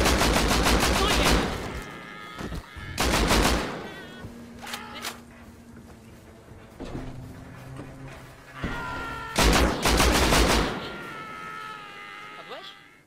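Online survival game Rust plays bursts of rapid gunfire during a base raid and firefight. Loud, close volleys come in several separated bursts over the span, with voices talking between and around them.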